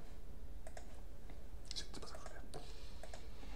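Keys clatter on a computer keyboard as a sudo pacman command is typed, with scattered quiet clicks and a short burst of faster tapping over a low background hum, faint and close.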